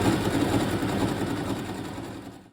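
A sewing machine stitches the folded ends of a kimono sleeve together, running in a steady, fast mechanical whir with a low rumble, then slowing and stopping at the end.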